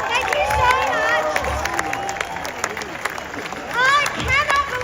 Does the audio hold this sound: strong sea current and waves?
no